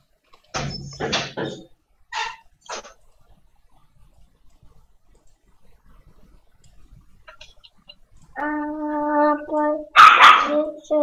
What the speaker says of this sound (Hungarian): Vidd ki, vidd ki a sok kutyát.